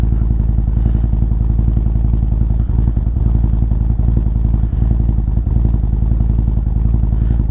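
Harley-Davidson Road Glide with a Feuling 465 cam at cold-start idle, a loud, close, steady deep lumpy rumble with rapid even firing pulses throughout and no talking.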